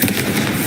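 A Confringo blast spell fired in Hogwarts Legacy, a short crackling, fiery burst that fills the whole brief moment with dense noisy energy and no voice over it.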